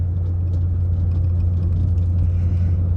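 A 1998 Land Rover Defender 90 50th anniversary edition idles with a steady, deep low rumble close by, even and unbroken throughout with no voices.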